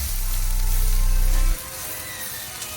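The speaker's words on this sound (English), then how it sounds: "while the onions are sauteing, I'm going to get my ribeye steaks on the Blackstone griddle." Seasoned onions sautéing in oil on a hot Blackstone griddle, a loud close sizzle that drops abruptly halfway through to a quieter crackle.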